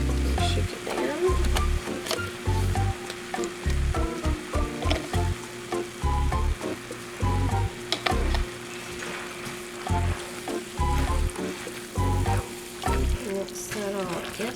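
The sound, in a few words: stirring barbecue chicken casserole with honey hot barbecue sauce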